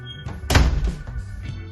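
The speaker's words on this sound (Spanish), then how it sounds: "ahora mismo está cerrando la puerta, para mi gusto, demasiado brusco y fuerte" A door pulled shut by a Yale hydraulic door closer lands with a single heavy thunk, abrupt and fairly loud, followed by brief rattling and settling noises nearby.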